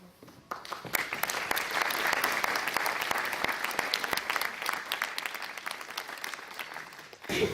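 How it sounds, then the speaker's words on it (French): A theatre audience applauds as a performer comes on before a staging of Chekhov's The Bear, sustained dense clapping for about six seconds that starts and stops abruptly. "n'hésitez pas à l'applaudir"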